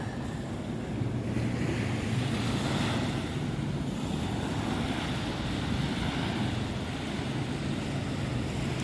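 Sea waves rolling onto a beach behind a resort at Ujung Genteng, Sukabumi, West Java: a continuous loud roar of surf mixed with wind buffeting the microphone, steady throughout with no voices.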